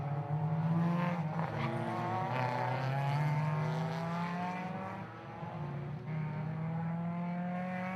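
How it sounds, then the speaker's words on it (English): Ford Fiesta ST race cars on the green flag lap at Knockhill roll past as a steady, droning engine note that swells and shifts in pitch, fairly distant, with no talk. "So the cars making their way through just now, as we said."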